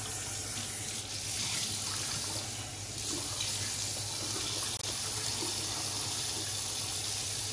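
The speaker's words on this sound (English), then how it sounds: "But now I can fill it from the tap as opposed to having to squirt the distilled water into it" Water runs steadily from a bathroom tap into a sink, a constant close hiss without break and no voices.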